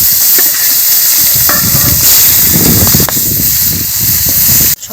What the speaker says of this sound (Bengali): আর যে কটা মাছ আছে একই রকম করে আমি মাছগুলো ভেজে নেব।